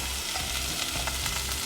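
Shrimp fry in a wok with a steady, close crackling sizzle, punctuated by light scrapes and taps of a spatula, constant in loudness throughout with no speech.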